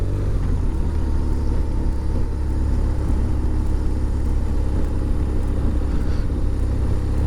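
A BMW R1200RT SE motorcycle rides along a narrow gravel-strewn country lane between hedges, its engine droning steadily under constant wind rush at close range.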